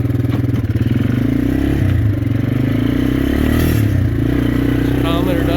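A 1988 Yamaha Moto 4 250 2x4 ATV idles and runs steadily and loudly up close, fitted with a Polaris Hardcat part, while its worn rear end, which needs bushings, adds a loose metallic jangle over the continuous engine drone.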